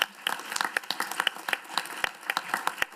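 Scattered applause from a modest audience at a lightning talk session of a digital humanities forum, individual claps standing out sharply in an uneven, fairly faint patter with little talk.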